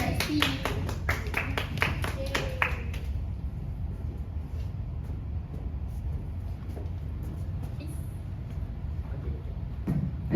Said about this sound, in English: Give a big clap to Oedipus Rex, please.